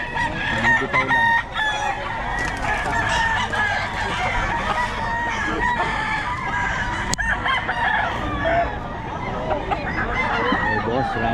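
Several roosters crow repeatedly at a busy chicken market in Bocaue, loud and overlapping with clucking and other fowl around, while a crowd chatters beneath throughout.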